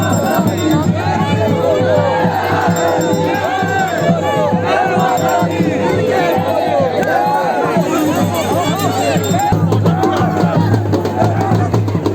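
A large crowd of devotees gathers at a village temple of Maa Kali in Jaunsar, and their shouting and babble stay loud and steady throughout, with no pause.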